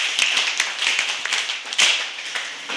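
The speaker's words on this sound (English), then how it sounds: "kindly put your hands together to give the chairman a big round of applause." An audience at a school administrators' and teachers' training session applauds the chairman, a steady patter of scattered hand claps at moderate distance with a few sharper individual claps.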